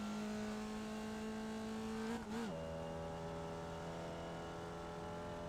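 A Formula Vee race car in the iRacing simulator accelerates out of pit road at Jefferson, its engine a steady buzzing drone with a brief wavering blip midway before settling back to an even pitch.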